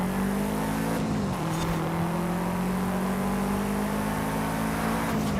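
A car driving in Forza Horizon 5, its engine droning steadily close by with a brief dip in pitch around a gear change, then holding a sustained hum throughout with no talk.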